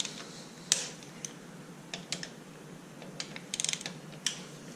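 A ratchet clicks as it loosens the 8mm cover bolts on a Honda CB125E motorcycle engine, giving quiet, close, scattered ticking bursts, with a quick run of rapid clicks near the end.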